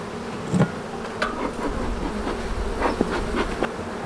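Honey bees hum steadily around an open hive frame during an apiary inspection, a continuous close buzz with faint taps and knocks rising through it and no speech.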